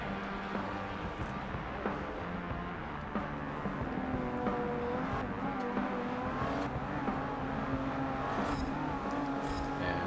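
Race cars accelerate at the Dubai circuit in Forza Motorsport 7, with several engines revving and shifting up in a dense, continuous roar. Faint tire squeal sits under the engines, and no one speaks.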